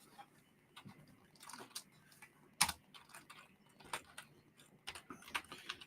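Quiet, irregular keyboard typing with scattered clicks and one louder key strike partway through, close and alone.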